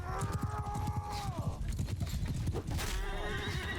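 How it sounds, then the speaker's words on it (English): In Mount & Blade II: Bannerlord, a horse whinnies twice with long descending neighs while hooves clip-clop rapidly beneath, amid the clatter of a battlefield. "Down goes your horse."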